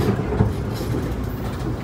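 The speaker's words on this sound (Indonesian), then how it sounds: "Saat lagi kereta api Bogowonto akan tiba di stasiun tujuan akhir, stasiun Pasar Senen." Bogowonto executive train arriving at Pasar Senen station in Jakarta, heard from inside as a loud, continuous low rumble with faint rhythmic wheel clatter.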